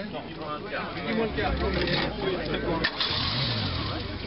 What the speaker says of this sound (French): On va demander au propriétaire de faire tourner son moteur. Il tourne, hein.